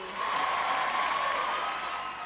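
A studio audience at the Gladiators UK semi-finals breaks into big applause, a dense, steady wash of clapping and crowd noise that stays loud and even for the whole stretch, with a faint tone running underneath.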